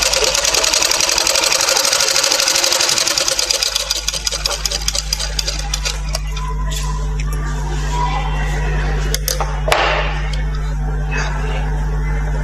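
A sewing machine stitching a blouse runs in a fast, rattling clatter that slows and fades after a few seconds, leaving a steady low electrical hum with a few scattered clicks and knocks.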